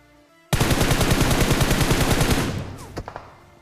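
Rapid automatic gunfire rattles loud and close in a video game firefight, a sustained burst of about two seconds followed by a few trailing single shots.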